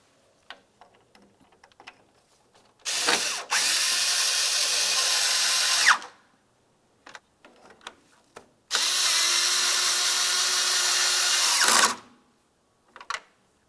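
A power tool drives two 10mm-headed bolts holding the grille assembly to the body of a Ford Flex, giving two sustained whirring bursts of about three seconds each, with scattered clicks and handling taps between them. No one speaks.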